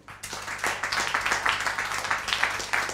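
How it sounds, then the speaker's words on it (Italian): Applause breaks out at an award ceremony, a burst of many hands clapping in quick, irregular rhythm that starts abruptly and stays loud and close for the whole stretch. "Un applauso."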